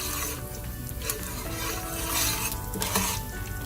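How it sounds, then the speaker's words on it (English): Lentils cooking in a hot pan, browning slightly, give a steady close sizzle with light stirring scrapes throughout. "You want your lentils to start browning just a little bit."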